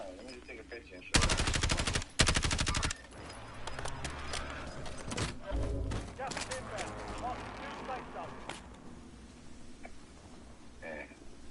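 Gunfire in the video game Warzone on the Verdansk map: two loud sustained bursts of automatic fire up close, followed by scattered single shots and clatter, with voices talking underneath.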